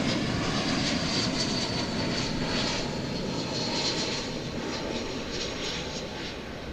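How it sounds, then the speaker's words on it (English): An American Airlines Airbus A321 arriving at DFW Airport makes a loud, steady broadband jet roar that holds close and even throughout, easing off only slightly toward the end. "That is American 2885 arriving from San Diego in California, an Airbus A321."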